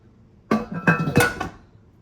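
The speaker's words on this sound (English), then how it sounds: "we're gonna go ahead and put on our lid" A metal lid is set onto a water bath canner holding submerged jars, giving a few close clanks and clinks of metal on metal over about a second, then quiet.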